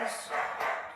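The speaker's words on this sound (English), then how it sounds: "Sorry about the barking. That's my dog." A dog barks a couple of times in quick succession, fairly close, with a person talking over and around the barks.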